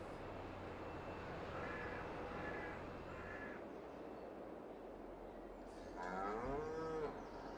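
Cattle in the Farming Simulator 22 video game moo in a few low calls, then one longer, louder moo near the end, set against a steady ambient farm background.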